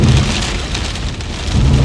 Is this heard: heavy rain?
yes